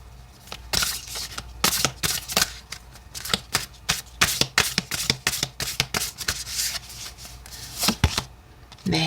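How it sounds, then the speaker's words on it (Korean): A deck of oracle cards is shuffled by hand in a run of sharp, rapid riffling bursts, close and crisp, repeating in uneven rhythm over several seconds with short pauses between, and no voices. "오라클 카드 볼게요"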